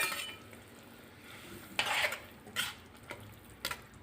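Fried okra is tipped into a simmering gravy and stirred with a spoon, giving soft bubbling under a few sharp scrapes and clinks against the pan.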